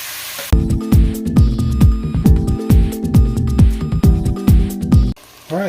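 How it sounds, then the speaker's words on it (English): Vegetables being stirred back into a pizza casserole with sausage in a hot pan, repeated scraping strokes over a steady loud sizzle, close up, ending with a brief quieter pause. "Now I'm going to add in the vegetables back in and start mixing it all"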